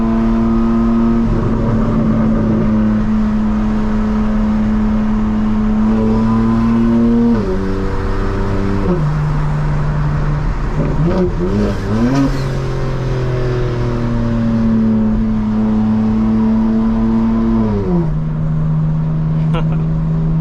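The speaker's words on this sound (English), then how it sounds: "And the burbles are even crazier." A modified 2024 BMW M4 Competition droning from inside the cabin, the engine note steady and loud with gear changes shifting its pitch, and brief pops and burbles from the exhaust as the throttle lifts. A voice talks over it.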